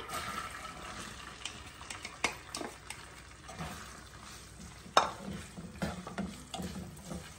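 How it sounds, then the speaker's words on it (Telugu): Onions fry in hot oil with cumin seeds, a soft, steady sizzle broken by scattered clinks and scrapes of a spoon stirring in the pan. "సో ఆయిల్ కొంచెం హీట్ ఎక్కాక జీలకర్ర, సో ఇప్పుడు ఆనియన్స్ వేసేస్తున్నా."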